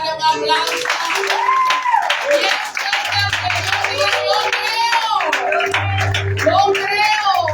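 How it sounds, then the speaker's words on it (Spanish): Applause from a church congregation, with claps scattered through a song, a lead voice singing over it and a low hum in the room. "¿Cuántos pueden darle un aplauso?"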